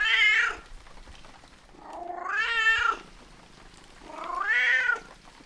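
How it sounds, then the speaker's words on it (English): A cat meows three times, drawn-out and wailing, each cry rising and falling with a pause between, loud and close in a quiet room with no talking. "Shut up, you dumb cat."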